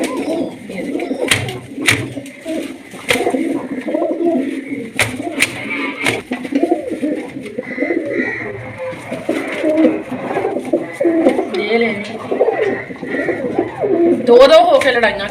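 White pigeons cooing repeatedly in a close indoor group while fighting, the throaty coos overlapping in an uneven rhythm, with someone talking over them throughout.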